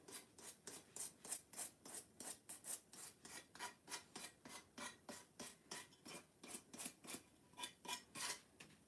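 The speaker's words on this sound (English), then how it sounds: "we're going to take some dark wax and we're going to age it up a little bit" Steady rhythmic rubbing strokes, about three per second, as dark wax is worked onto a thrifted home decor piece, close and fairly quiet with no talking.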